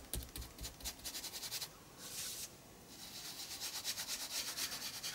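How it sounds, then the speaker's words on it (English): Paint being rubbed gently into white gesso on an art journal page, a soft close scratchy rubbing in rhythmic strokes with a brief pause midway, no talking. "rub gently and get a nice fairly sort of gradiency feel"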